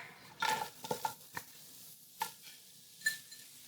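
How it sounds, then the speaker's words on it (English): Ginger and shallots drop into a pot and sizzle faintly, with a few soft stirring scrapes and clinks spaced through a quiet moment in a kitchen. "So I'm going to start with my ginger. And all my shallots are going in as well."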